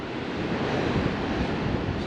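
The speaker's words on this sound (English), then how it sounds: "You can hear the ocean." Turbulent Southern Ocean waves surge 40 metres below a cliff-top platform over a gap, a loud continuous roar of churning surf mixed with wind buffeting the microphone.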